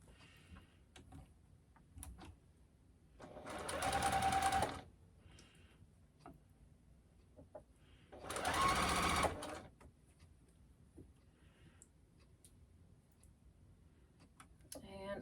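Sewing machine stitching minky fabric for an infinity scarf, two separate close bursts of rapid whirring stitches of about a second or so each, with quiet handling sounds between and faint talk around them.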